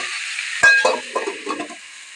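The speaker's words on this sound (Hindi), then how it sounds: "पहले हम साग और आलू को पका लेते हैं।" Greens and potatoes fry in a pan with a loud, close sizzle, broken by several scraping stirs of a spoon against the pan and no voices.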